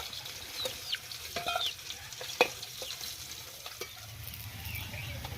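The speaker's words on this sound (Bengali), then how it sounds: "বাকি মাছগুলো একই রকমভাবে ভেজে নেব।" Remaining rohu fish pieces fry in oil with a soft, fairly quiet sizzle, broken by occasional sharp spatters and light clinks; no voices are heard.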